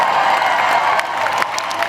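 Convention audience applauding and cheering for a celebrity guest appearance, a dense continuous wash of clapping and shouts filling the hall at steady, loud level throughout.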